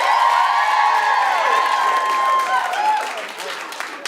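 A comedy club audience breaks into clapping mixed with cheers and whoops, a lively burst that fades toward the end.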